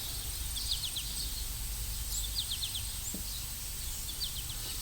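Small birds chirp faintly at a distance in short high trills and twittering bursts over a steady outdoor hiss, with no voices present.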